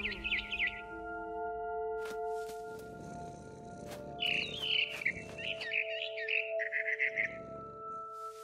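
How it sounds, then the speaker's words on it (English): A barn swallow in the video game What Remains of Edith Finch chirps in short bright bursts, at the start and again in a longer run midway, over sustained ambient game tones and soft rustling steps. "Then I heard chirping outside my window."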